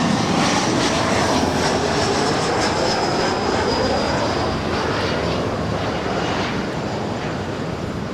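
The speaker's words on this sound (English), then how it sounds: "That was United Express Flight 5248 coming in from" A United Express airliner lands at Los Angeles International Airport, its engines a loud continuous roar with a rising whine that holds steady throughout, with no speech.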